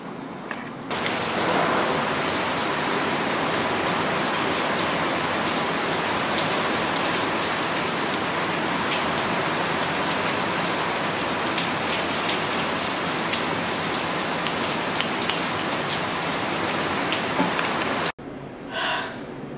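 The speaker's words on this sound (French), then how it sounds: "Il s'est mis à pleuvoir." Steady rain falls outside, a dense even hiss of drops that fills almost twenty seconds at constant loudness before it cuts off abruptly near the end.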